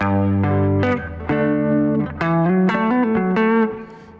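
Electric guitar plays a bluesy lick with double stops and slides, a quick run of bright sustained notes with distortion and reverb, alone and close.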